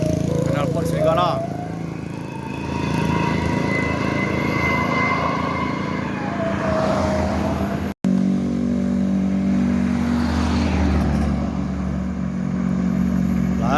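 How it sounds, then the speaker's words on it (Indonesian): An NPM bus fitted with a loud aftermarket wolf exhaust revs on the road between Bukittinggi and Jakarta, its engine roar rising and swelling in waves, with a brief cut midway and people talking over it. "Knalpot serigala."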